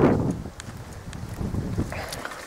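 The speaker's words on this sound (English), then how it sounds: "wind's picking up now" Wind blowing outdoors in a rural spot with trees, a steady rushing gust buffeting the microphone, loudest at the start and then settling into a lower continuous whoosh.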